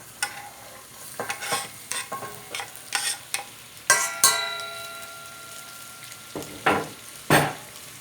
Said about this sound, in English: And now we need to let the onions fry with the meat.